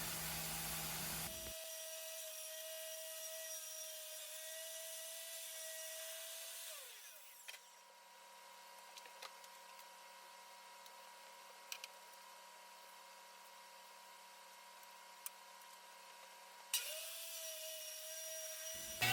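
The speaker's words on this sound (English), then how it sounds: "I am cutting this freehand, this plywood freehand." A power saw cuts plywood freehand, its motor whining loudly at the start, then dropping away into a quieter stretch of scraping and faint clicks before the motor whine returns near the end; no one speaks.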